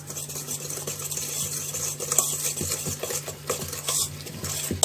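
Apple cake batter is mixed by hand in a bowl with soft, steady scraping and stirring strokes and light utensil clinks. The sound stays close and quiet, with no voices.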